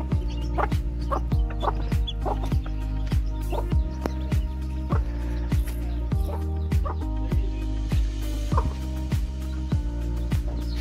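Chickens on a farm in Pakistan cluck continuously, with many sharp, overlapping clucks and calls in a busy, close chorus over a steady low hum and no speech.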